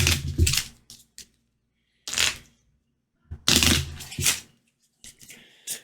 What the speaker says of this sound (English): So we're just going to shuffle these bad boys.